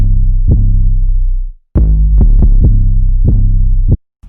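Two deep 808 bass sounds from an FL Studio beat trade phrases in call and response, booming low notes with punchy attacks and a brief gap between them, very loud and close, no voices.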